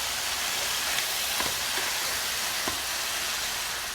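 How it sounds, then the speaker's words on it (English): Mushrooms and vegetables sauté in a pan with a continuous, even sizzle, and a few faint clicks and taps sound over it at close range. "So we're sauteing this for about 2 minutes"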